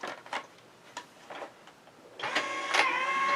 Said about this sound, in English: And then once again we're going to use the die cut machine